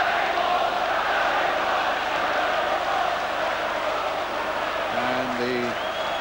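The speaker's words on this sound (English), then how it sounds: "the Man United crowd chanting the name of Gary Walsh, the 19-year-old United keeper" A Manchester United football crowd chanting their 19-year-old keeper's name during a match against Spurs, a broad sustained roar of many voices from the stands, with a commentator speaking near the end.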